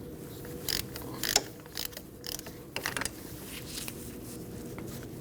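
A ratchet ticks quietly in a few short runs as a brake hose banjo bolt with washers is tightened on a 2012–2016 Honda CR-V front caliper, over a steady low hum.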